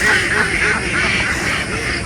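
Loose ducks on a backyard farm quack in a dense, overlapping chorus, close and loud, with a steady rhythm of nasal calls and no talk over them.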